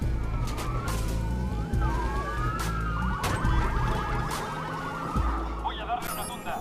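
A police car siren wails in the video game Watch Dogs, rising and falling in a loud, steady cycle over engine and traffic noise, with game voices talking over it.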